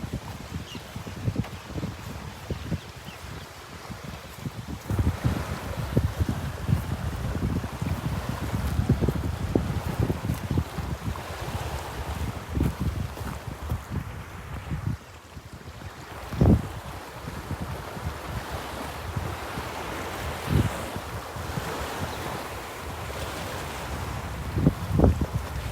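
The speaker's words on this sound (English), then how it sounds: "Can you hear the water?" Water washes and splashes steadily against a hull or shore, with wind rumbling in the background and a few louder sloshes.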